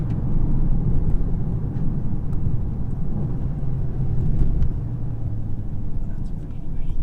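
A Volkswagen Golf Mk7.5 GTI TCR engine pulls at barely any throttle while driving, a steady, dense low rumble filling the cabin for the whole stretch without any sharp revving.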